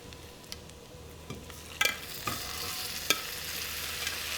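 Shrimp and garlic in a pan give a faint, steady sizzle with a few soft clicks and scrapes of stirring, heard close and alone with no talking.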